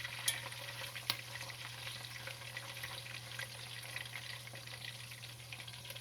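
Sausage frying in grease for a shrimp and okra gumbo, a faint, steady sizzle with soft crackles and a couple of sharper pops over a low constant hum.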